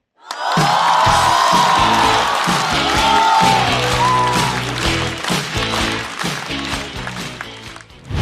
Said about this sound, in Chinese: 掌声欢迎周新宇